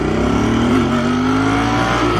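A Royal Enfield Bear 650 motorcycle engine pulling hard under acceleration, its steady rising drone close and loud, held smoothly for a couple of seconds with road and wind noise underneath.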